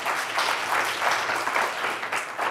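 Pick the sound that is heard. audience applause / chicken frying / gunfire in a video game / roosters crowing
audience applause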